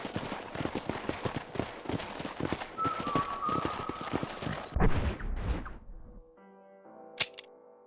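A horse's hooves clip-clop in a steady, brisk rhythm in Red Dead Redemption on PC for about five seconds, then stop, followed by a few softer thuds and a brief bright chime.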